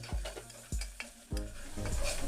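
A spoon scrapes and stirs ginger garlic paste into frying onions with coriander and mint, a few sharp knocks against the pan over a soft, steady sizzle, close and fairly quiet.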